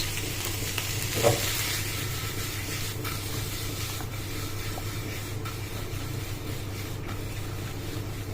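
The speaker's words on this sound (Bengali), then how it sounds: "একটু হালকা হালকা করে নেড়ে নেব।" Cabbage stir-fries with shrimp in a pan, giving a steady close sizzle and hiss with occasional light stirring scrapes and no talking.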